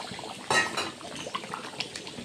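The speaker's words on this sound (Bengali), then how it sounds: "এখন জল ঢেলে দেব।" Water poured into a pot of cooking meat, a brief gushing splash followed by light bubbling and dripping, close and moderately quiet, with no talking.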